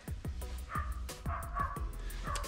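Several dogs bark loudly and close by in a rapid, overlapping burst near a barn, with sharp repeated barks throughout.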